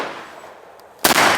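A Benelli shotgun with an Advanced Impact barrel fires at a clay target outdoors: a faint hiss gives way to one sudden loud blast near the end that rings on.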